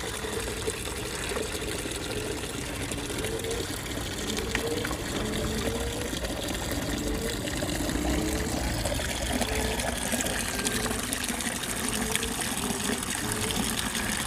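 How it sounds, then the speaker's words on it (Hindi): Fresh water gushing steadily into a container set out for pigeons, a continuous close splashing flow with no pauses and no talking. "तो पानी इसमें हम भर देते हैं।"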